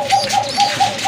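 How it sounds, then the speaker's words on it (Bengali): Cooing of Indian Bombay pigeons, including hens kept for sale: a soft, low repeated coo in a steady rhythm of about five calls, near and clear with no talk. "দেখেন ইন্ডিয়ান মুম্বাইয়ের কিন্তু দুইটা মাদি কবুতর আছে"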